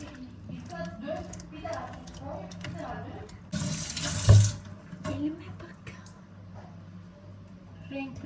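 Eggplants rinsed under a running kitchen tap, water splashing and gurgling in a sink in short bursts with one louder gush midway, while people talk in the background throughout.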